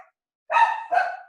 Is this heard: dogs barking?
yes